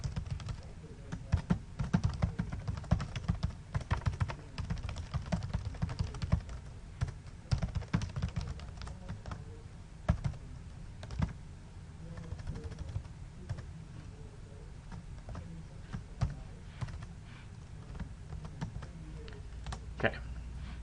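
Computer keyboard typing of Java code, a steady run of soft key clicks and occasional heavier keystrokes continuing for about twenty seconds at moderate level.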